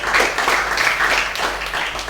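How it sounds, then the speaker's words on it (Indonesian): A congregation at a church testimony service gives a brief burst of applause, a dense, steady wash of clapping at moderate volume. "Kasih tepuk tangan buat Tuhan Yesus yang dahsyat."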